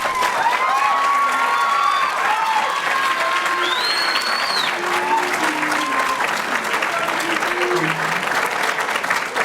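Audience applause for judges and finalists at a school oratorical competition, sustained and loud throughout, with scattered cheers and whoops rising above the steady clapping.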